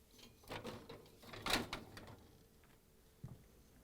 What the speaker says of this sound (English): Remove the bottom drawer.